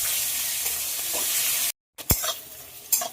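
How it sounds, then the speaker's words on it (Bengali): Chopped onion frying in oil tempered with cumin, dried red chilli and bay leaf, a steady close hiss of sizzling broken by a brief silence and a couple of spoon scrapes while stirring. "পেঁয়াজ একটু হালকা ভাজা হয়ে গেছে"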